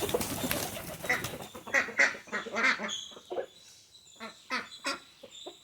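Ducks and geese waiting for wheat feed at a home poultry yard quack and honk in repeated close, loud bursts, overlapping at first, then sparser calls.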